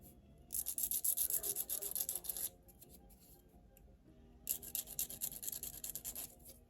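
A file rasps against the edge of a plastic part from a Revell 1937 Ford pickup model kit in two quiet bursts of quick back-and-forth scraping, separated by a short pause, close up in a quiet room.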